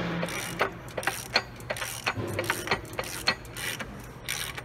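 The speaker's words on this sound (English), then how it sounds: "as I start to twist this, it's gonna pull that bearing from the front of the motor" Metallic ratcheting and clicking as a front bearing is pulled off the main shaft of an Eaton Fuller heavy-duty manual transmission, irregular bursts of clicks and scraping up close.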